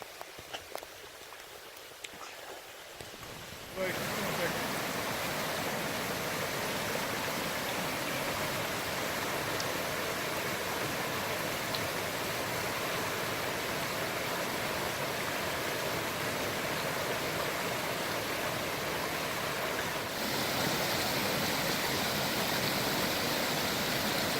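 Creek water rushes steadily beside a backpacking trail in Shenandoah National Park, a loud, continuous broadband roar that begins after a few quiet seconds of footsteps and stays close throughout.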